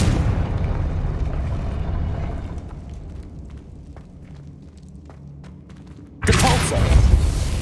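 Confringo fire spell cast in the Hogwarts Legacy video game, a sudden loud booming explosion bursting in near the end over a low rumbling game soundscape.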